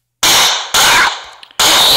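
Pistol fire in the Flat Zombies video game: three loud, sharp broadband shots, each decaying quickly, spaced about half a second to nearly a second apart with no talk.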